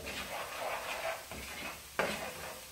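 Ingredients for a chicken pot pie filling are stirred in a cooking pot: soft, quiet scraping and light sizzling, with a couple of sharper knocks near the end.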